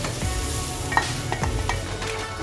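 Green chillies and cut garlic cloves sputter in a hot pan, a steady close sizzle with a few sharp stirring taps.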